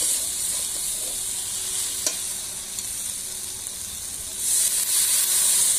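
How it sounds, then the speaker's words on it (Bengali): Chopped tomato goes into ginger paste frying in a pan, producing a steady hiss and sizzle, with a brief clatter of stirring and a louder burst of sizzling near the end, no voices. "আদাটাও ভালোভাবে ভাজা হয়ে গেলে তারপরে দিয়ে দিচ্ছি টমেটো কুচি"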